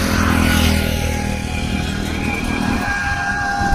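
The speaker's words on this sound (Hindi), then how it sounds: "ट्रैक्टर जा रहा है" A tractor carrying farming equipment drives past through a forest area, its engine a loud, close, continuous drone that eases slightly toward the end.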